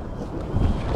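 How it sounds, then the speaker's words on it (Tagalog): Strong wind at sea buffets the microphone on a small boat amid heavy waves, a dense low roaring rumble that surges slightly over about a second. "Uy, lakas ng hangin."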